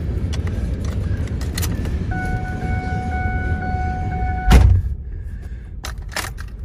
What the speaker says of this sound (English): Truck fires right up.